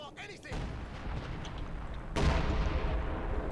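Distant battlefield gunfire and a heavy artillery boom in the WWII strategy game Company of Heroes 2, a dense rumbling barrage with one sharper blast midway, while someone talks over it.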